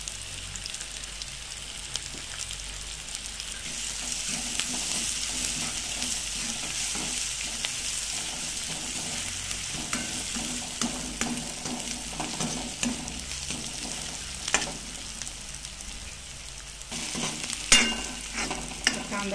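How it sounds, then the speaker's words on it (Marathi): Asafoetida dropped into hot oil in a pan of onions for a sprouted moth bean curry, giving a steady, rain-like sizzle with light stirring scrapes and occasional clicks, close and without talk. "आता हे हिंग टाकून घेते."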